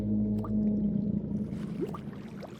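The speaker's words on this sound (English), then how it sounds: "the terrifying sound of this Leviathan-class sea monster" A deep, low drawn-out rumbling moan from a Leviathan-class sea monster in Minecraft rises and fades, with watery gurgles and faint higher whooping calls.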